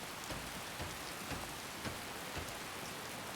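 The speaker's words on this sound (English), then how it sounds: "Oh, it's raining." Steady rain falls in Skyrim's Riverwood region, a dense, even hiss of drops on surfaces with faint soft patters scattered through, continuous and moderately quiet with no voices.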